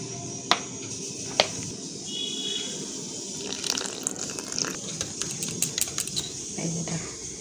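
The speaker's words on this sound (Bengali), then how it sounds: "এখন এর মধ্যে জল দেব, একটু তেল দেব" Water is poured into a batter mix, a short gushing trickle and liquid splashing with a couple of sharp knocks, fairly close and without talk.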